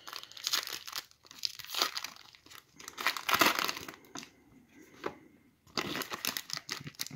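Foil wrappers of 2019 Panini Prizm football card packs crinkle and tear in several bursts of close, loud rustling separated by short pauses.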